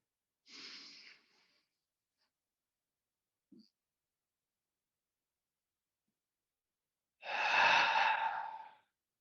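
Deep breaths during a yoga session: one audible exhale near the start, a tiny sniff, then a longer, fuller breath out toward the end, close and fairly soft with silence between.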